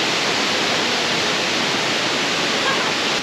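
A small jungle waterfall in North Bali roars as a steady, close, dense rush of falling water, unbroken and uniform from start to finish.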